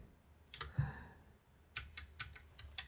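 Computer keyboard hotkeys being pressed: a few faint, quick clicking taps in two short clusters, quiet and close against a low background hum.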